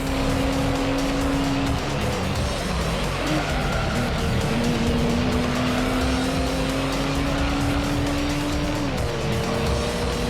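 Racing car engines in the video game Gran Turismo 3, a steady, buzzy engine drone that climbs through the gears with brief shifts and a faint tire squeal, busy and continuous with no talk.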